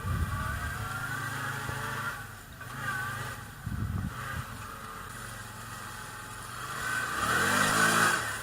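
A side-by-side in 4-wheel drive pulls away on a dirt trail, its mid-pitched engine droning steadily and then revving louder toward the end, heard close with no talking.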